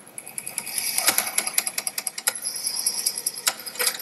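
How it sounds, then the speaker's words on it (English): Heads of a double-sided floppy disk drive scrape against a disk of different friction, giving a close, fast, rhythmic scratching clatter that runs alone for several seconds. "that's the sound of scraping right on a potentially historically interesting disk"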